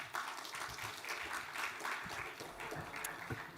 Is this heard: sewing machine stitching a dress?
no